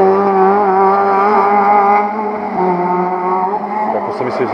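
A race car at the Lovćen hill climb in 2016 passes close by, its engine a loud, steady high-revving roar that holds strong, then shifts pitch and fades slightly near the end.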